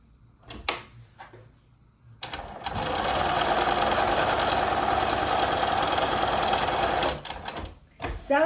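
A sewing machine stitches paper quilt pieces, starting with a few short clicks and then running a steady, loud whirring stretch of about four seconds before stopping with more clicks, heard close up.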